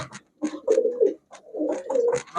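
German Beauty pigeons coo in close, repeated throaty bursts, several soft rolling calls separated by brief pauses.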